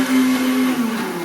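A kitchen mixer grinder runs with a loud, steady motor whine, close by and uninterrupted, its pitch dipping slightly near the end.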